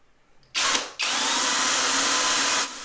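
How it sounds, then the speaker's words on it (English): A power driver sends a screw into a wooden dowel for a mitre saw station. A short whir comes first, then after a brief pause comes one longer, steady, close drive of about a second and a half that stops abruptly. "And a screw into the dowel for good measure."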